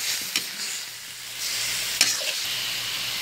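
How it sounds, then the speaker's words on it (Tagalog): Chicken sautéing in a pan for tinola, a steady sizzle and frying hiss with a few soft stirring scrapes, close and fairly quiet with no talking. "Medyo igigisa-gisa natin yung ating chicken"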